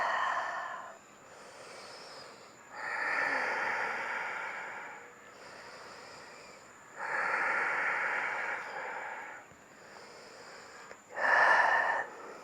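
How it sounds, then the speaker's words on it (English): Slow, audible breathing while a standing hip stretch is held in a yoga session, several long drawn breaths in and out with pauses between, close and fairly soft, no talking. "And breathe."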